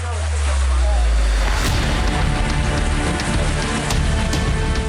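Heavy rain pours down steadily in a rural area of Pali, where streams and drains are overflowing, with a loud and dense hiss of water that continues without a break.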